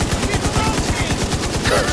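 Rapid gunfire in The Division 2, a steady stream of punchy shots close up with game effects around it, consistent with shotgun blasts though the picture cannot pin the weapon type.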